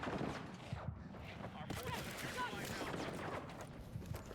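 Gunfire in the Battlefield 6 beta shooter game, with rapid overlapping bursts and shots crackling through the mix under near-constant voices and game noise.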